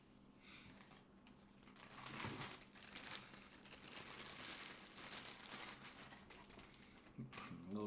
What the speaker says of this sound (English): A little bit of plastic wrap.